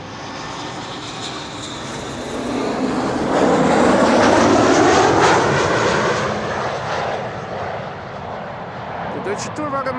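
An Embraer 190 jet airliner in special livery, flown by German Airways for KLM Cityhopper, passes at Amsterdam Schiphol Airport. Its loud, broad engine roar rises to a peak and then fades away.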